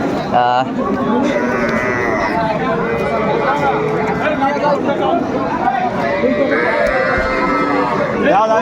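A cow moos several times, drawn-out low calls rising over steady chatter and nearby voices at a busy outdoor cattle market.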